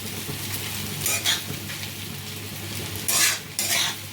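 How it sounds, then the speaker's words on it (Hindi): Vrat poha frying in ghee and oil in a pan, a continuous soft sizzle with a few brisk scrapes and stirs of a spoon, close and without talk. "बस 1 से 2 मिनट इन्हें हमें भूनना है और हमारे व्रत के पोहे हो जाएंगे बिल्कुल रेडी।"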